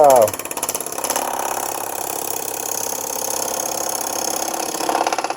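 A wood lathe spins a wooden pedestal dish blank at roughly 1,000 RPM, giving a steady mechanical hum with a regular pulsing whir, close and continuous after a brief voice at the start.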